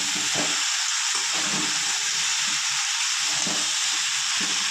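Mixed vegetables lightly frying in a pan for a vegetarian dish, a steady loud hiss and sizzle with faint stirring and clattering underneath, no talk.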